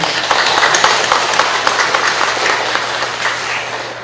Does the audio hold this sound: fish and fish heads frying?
no